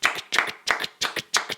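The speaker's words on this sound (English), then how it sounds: "love that extra rhythmic detail that he's adding with those claps" Crisp hand claps in a Logic hip hop beat, five evenly spaced doubled claps in a tight syncopated pattern, dry and close with nothing else around them.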